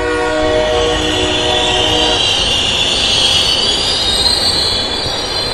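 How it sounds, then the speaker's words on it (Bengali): A train pulls into a station: loud, continuous rumble of rail cars and wheels with high squealing brakes and a horn-like tone, close and dense throughout. "এরপর কলকাতা ট্রেন এসে প্ল্যাটফর্মে দাঁড়ালো"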